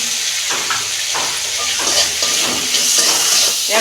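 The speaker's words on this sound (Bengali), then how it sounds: "ভালো করে মশলাটাকে কষাবো" Masala spice paste with green chillies and salt frying in a pan for a homestyle Bengali fish curry, a steady close sizzle broken by the soft scrape of stirring, with no talking.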